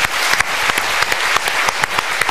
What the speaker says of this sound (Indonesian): kita berikan tepuk tangan kalau gitu